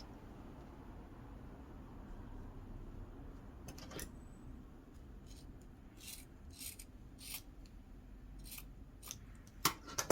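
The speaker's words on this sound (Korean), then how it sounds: "치마 길이를 잘라주도록 할게요" Scissors snip through macrame cord to trim a doll's skirt to length, a series of short, crisp cuts coming faster toward the end over a low room hum.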